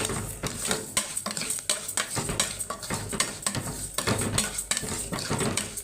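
Red rice for fish being stirred in a cooking pot, a spoon scraping and clinking against the metal in a steady, repeated rhythm over a soft sizzle, close by and with no talking.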